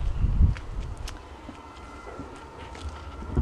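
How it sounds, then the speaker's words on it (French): Wind gusts buffeting a microphone outdoors in a vegetable garden in an oceanic climate, low rumbling bursts strongest at the start, then a steadier breezy rush. "Alors, il y a un peu de vent."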